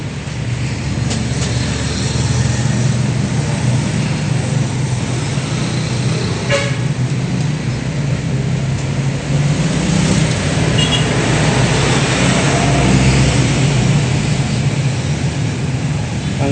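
A Honda XR 150 motorcycle engine runs with no exhaust pipe fitted, a loud, steady, raw drone that holds unbroken for the whole stretch without pause.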